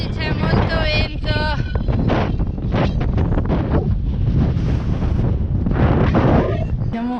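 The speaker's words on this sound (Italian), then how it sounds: "Oggi c'è molto vento." Strong, continuous wind buffeting the microphone with a loud roar, and a person talking in Italian through it.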